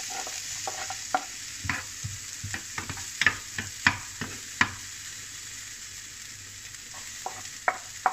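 White onion frying in a pan, a continuous soft sizzle broken by frequent crisp scrapes and taps of a spoon as it is stirred, close up and without any talking.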